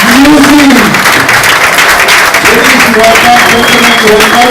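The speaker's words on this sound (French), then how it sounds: "Les applaudissements qui retentissent" A crowd applauds a gospel group walking on stage at a concert, loud dense clapping over music and some vocal sounds throughout.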